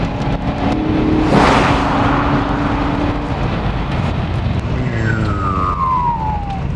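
A Mercedes-Benz 500E W124 V8 sedan accelerates on kickdown, a steady loud engine roar rising in pitch over several seconds, heard from inside with road noise and no talk.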